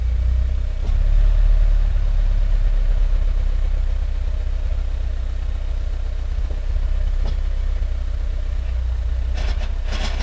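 A car engine idling in gear with the clutch pressed, a steady low rumble holding throughout with a few faint clicks and small shifts in tone near the end.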